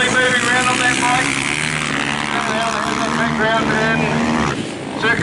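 Flat track speedway motorcycles race at Rosebank Speedway, their engines roaring loud and steady with rising and falling revs as bikes pass close. A commentator's voice runs over the engine noise throughout.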